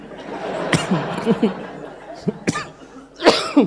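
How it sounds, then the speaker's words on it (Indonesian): A few sharp coughs break through a room of background chatter and light laughter during a religious lecture, with a louder burst of coughing near the end. "Udah ada yang ini sampai batuk tuh"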